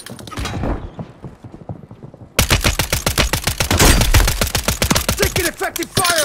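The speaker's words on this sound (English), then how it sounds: "Taking effective fire!" Video game gunfire from Call of Duty rattles in rapid automatic bursts, starting as a quieter stutter and then breaking into a loud, dense volley of closely spaced shots.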